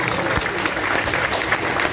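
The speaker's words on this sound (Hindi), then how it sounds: "एक बार जोर से तालियां बजाइए अपने लिए" Dense applause from an audience at a Sri Jagannath temple anniversary festival in Lagos, Nigeria, a steady close roar of many hands clapping throughout the short stretch.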